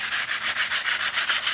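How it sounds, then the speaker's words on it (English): Short, rhythmic strokes of sandpaper lightly rubbing across painted wood, about eight quick back-and-forth passes, close and soft. "this one is light sanding just over the words"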